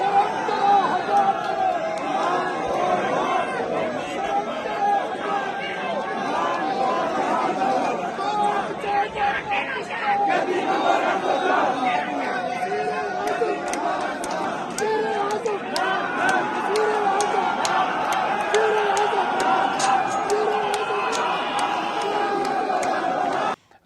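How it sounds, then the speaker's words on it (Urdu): Crowd of people chanting political slogans inside a court premises during a high court bar election, a dense, continuous wall of voices and chatter with shouted calls throughout. "عدالتوں میں نعرے گونج رہے ہیں"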